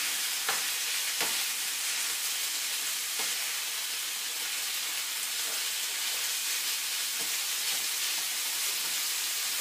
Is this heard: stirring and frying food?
yes